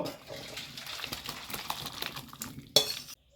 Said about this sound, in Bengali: এখন আমি নামিয়ে নেব এই পাত্রে ঢেলে নেব